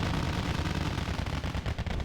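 Mortar and gunfire in the video game Wargame Red Dragon: a dense, rumbling rattle of distant shots and blasts, fairly faint and continuous for about two seconds.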